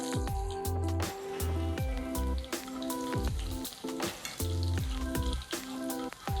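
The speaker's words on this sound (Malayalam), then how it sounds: "നമുക്ക് കടുക് ഇട്ട് കൊടുക്കാം നമ്മുടെ ചെറിയ ഉള്ളി അരിഞ്ഞത് ഇച്ചിരി ഇട്ട് കൊടുക്കാം" Mustard seeds and chopped shallots crackle and sizzle in hot oil in a pan for a prawn dish, with sharp repeated pops and spattering over a steady sizzle, close and fairly loud, with no speech.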